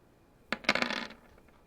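Dice clatter briefly during a tabletop role-playing game session, a sharp rattling burst of several small impacts that settles within about half a second, heard alone without talk.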